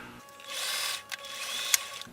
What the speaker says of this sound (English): Now what I'm doing is I'm sewing forward a couple of inches and then I'm going to back up.